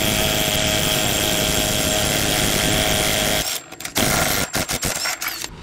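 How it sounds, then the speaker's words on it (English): Wrench loosening a body mount bolt with a 17mm wrench on a Toyota Tacoma: a steady loud mechanical whir runs unbroken for over three seconds, then breaks into choppy irregular bursts and brief clicks. "come down here with your 17mm and loosen it up"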